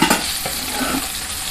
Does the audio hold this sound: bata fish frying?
yes